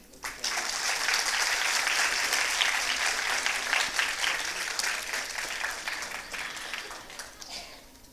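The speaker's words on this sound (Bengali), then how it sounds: "সকলের জন্য একটা জোরে করতালি" Sustained applause from a full auditorium audience at a Bengali community gathering, dense and steady clapping for about eight seconds before tapering slightly at the end.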